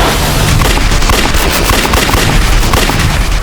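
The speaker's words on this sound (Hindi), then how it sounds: "Open fire." Dense, loud gunfire from a shootout in a TV crime drama, sustained rapid shots crackling without pause through the whole stretch, close and heavy with booming low end.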